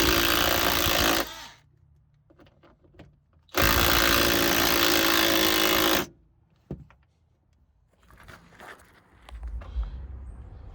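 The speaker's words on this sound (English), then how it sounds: "Usually an impact works best, and you just want to try to get these out" An impact wrench works loose the seatbelt restraint bolts on a 1990 Range Rover Classic, two loud sustained bursts of a few seconds each, close up, with quiet clicks and handling noises between and after them.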